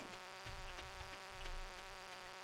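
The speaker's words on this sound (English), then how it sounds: "Oh no, I can hear the bee, and I'm not in the mines anymore." A bee buzzes in the Stardew Valley video game, a faint, steady insect drone heard through headphones that rises slightly at moments, with no talking over it.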